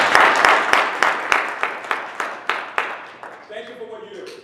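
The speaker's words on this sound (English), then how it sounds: "Can we give them a round of applause, please?" An audience at an entrepreneurs' network meeting claps in a sharp, fairly rhythmic run of about a dozen strong claps that fade after three seconds, then a voice speaks.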